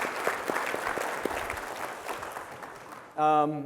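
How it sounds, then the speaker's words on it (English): A crowd applauds steadily for about three seconds, a dense wash of many hands clapping, then a voice cuts in at the end. "Can we get a round of applause for the previous speaker?"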